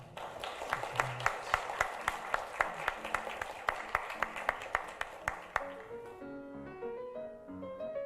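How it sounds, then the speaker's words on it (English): An audience applauds a professor after a lecture on building insulation and thermal comfort, with sharp regular claps that fade after several seconds into a few soft tonal notes. "let's give a big applause to Professor Tanaka"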